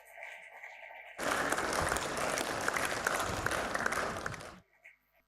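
Audience applause at a debate on Sanatanam, a loud burst of clapping from a crowd that starts abruptly, holds steady for about three seconds and cuts off sharply.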